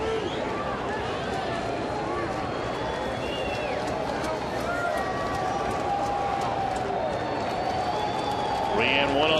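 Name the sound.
baseball stadium crowd standing and cheering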